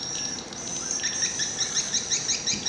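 Swiftlets give repeated high, thin chirping calls in quick rhythmic bursts, loud and close over a steady hiss, with no talking.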